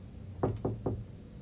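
Three evenly spaced knocks on a door, moderately close and fairly soft, over a steady low background hum with no voices.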